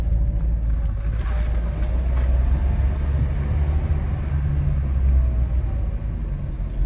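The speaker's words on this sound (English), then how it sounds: "listen to the turbo sound it makes" A twin-turbo car engine drones steadily up close, with a thin rising turbo whistle climbing above it and then easing off.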